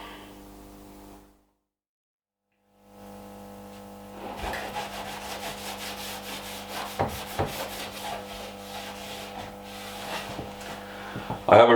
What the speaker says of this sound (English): I am wiping off the excess now so I don't get a sticky surface.